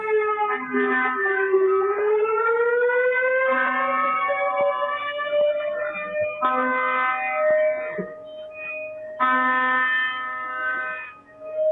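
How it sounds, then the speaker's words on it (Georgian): Sirens set off by protest participants at a street demonstration in Zugdidi wail and rise in pitch over about twelve seconds, with several overlapping tones that keep cutting in and swelling loudly. "ერთგვარი სირენების ხმაც, ეს აქციის მონაწილეები ასეთ ხმაურს იწვევენ ხოლმე."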